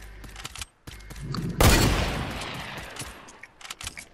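Gunfire in Fortnite: scattered rapid shots early, then a loud burst with a booming blast that decays over about two seconds, followed by more quick clustered shots, with no talking.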